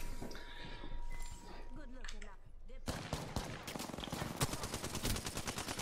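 Gunfire in the video game Apex Legends, a burst of rapid shots erupting midway and continuing as a dense crackling volley, with players talking over it.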